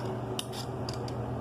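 Several quick, crisp scraping strokes of a vegetable peeler over a potato, close by, against a low steady hum.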